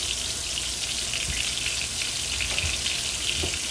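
Onions sauté in a hot pan with a steady, dense sizzle and crackle that runs unbroken from start to finish. A few soft stirring knocks sound faintly under it.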